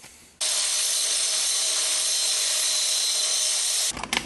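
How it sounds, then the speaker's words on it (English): Angle grinder working metal pieces cut for a shop stool frame, a loud steady high-pitched grind starting abruptly and running continuously for several seconds before cutting off, close and alone with no talking. "And now grinding time."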